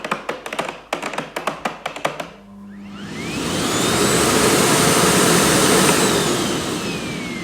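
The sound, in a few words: Miele Blizzard vacuum cleaner running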